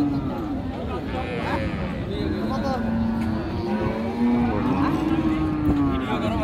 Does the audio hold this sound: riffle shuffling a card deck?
no